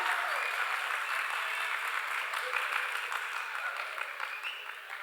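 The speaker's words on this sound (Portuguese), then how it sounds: "E uma salva de palmas para o professor Moraes Neto, que vai conduzir aqui o aulão." An audience applauds steadily as Professor Moraes Neto is welcomed onto the stage for a chemistry review class, a dense, even clapping that holds for several seconds and tapers slightly at the end.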